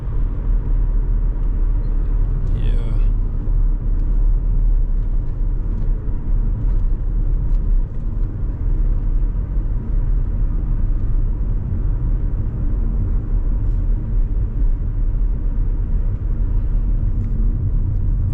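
A car coasts downhill on engine braking during a night drive in London, its low, steady engine and road rumble droning evenly throughout with no acceleration.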